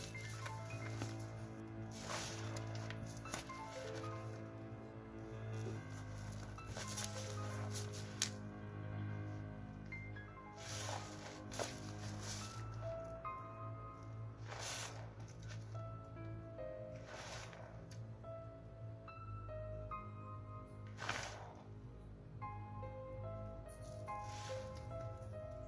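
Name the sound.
clenching and squeezing a bubbly potion mixture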